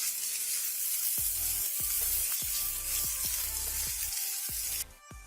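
Chicken gizzards and onion fry in a pan, a continuous sizzle broken by about eight rhythmic scraping stirs, close and loud, with no talking.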